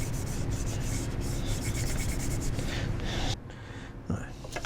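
An alcohol wipe rubs over a motorcycle part while fitting a Scottoiler chain oiler, giving steady close scrubbing for about three seconds, then quieter intermittent rubbing.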